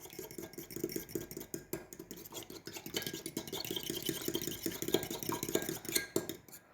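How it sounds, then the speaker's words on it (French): Eggs beaten with a fork in a bowl for a Paris-Brest choux pastry: rapid, irregular clinking and tapping of metal against the bowl, fairly quiet and close, with no voice over it. "vous allez donc pouvoir battre vos œufs avec une fourchette"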